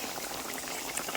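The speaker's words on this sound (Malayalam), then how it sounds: "നമുക്കിനി 1ാം പാലോടെ അങ്ങ് ഒഴിച്ചു കൊടുക്കാം." Fish curry simmering in a pot as the first, thick coconut milk goes in: dense, steady bubbling and liquid churning heard close up, with no voices.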